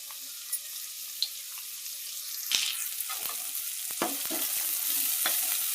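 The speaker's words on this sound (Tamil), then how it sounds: "வெங்காயம் போட்டாச்சு வெங்காயம் வந்து வேகிறதுக்கு நம்ம கொஞ்சமாக உப்பு போட்டுக்கலாம்" Onions sizzle in a pan with a little salt, making a steady broadband hiss that swells toward the end, with a few scattered light clinks and scrapes of stirring. No voices.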